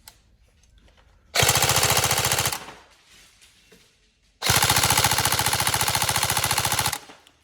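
Tokyo Marui SCAR-H NGRS recoil airsoft rifle, upgraded, fires two long full-auto bursts at a fast, even rate, each a loud mechanical rattle lasting about a second or more, separated by a quiet pause.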